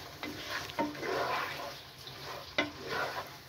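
Black pepper mutton stir-frying in a pan for a kali mirch gosht curry, a steady broadband sizzle with a few sharp scraping stirs and knocks, close and fairly quiet, no voices.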